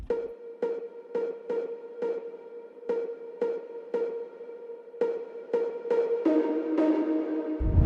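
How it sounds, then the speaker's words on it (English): A bright drum and bass drop synth melody of repeated staccato notes, filtered, muffled and soaked in echoing reverb, swelling into a fuller wash at the end. "we have the drop melody, which is filtered with a ton of reverb."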